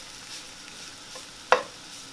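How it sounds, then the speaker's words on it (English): Soy curls saute in a hot pan with a faint steady sizzle while a utensil stirs them, one sharp scrape or clack standing out partway through, with no talking. "We're just going to saute this until it starts getting brown and crispy. You're going to want to keep it moving."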